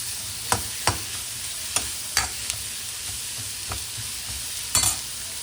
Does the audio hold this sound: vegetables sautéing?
yes